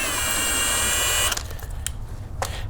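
A power tool whirs at high speed for over a second while loosening a 5/8 SAE clutch bolt on a DR chipper, CP55047BMN, then cuts off, leaving faint clicks and metal taps.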